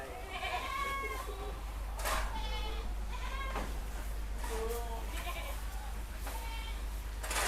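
Goats on a farm bleat repeatedly at afternoon feeding time on dry feed, several overlapping calls from nearby animals rising over a steady low hum, with a little background voice.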